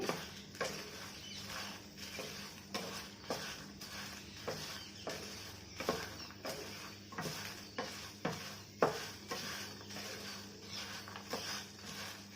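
Stuffing of coriander seeds and spices for stuffed okra frying in a pan, with a soft steady sizzle under repeated close scraping stirs of a spoon against the pan, no voices.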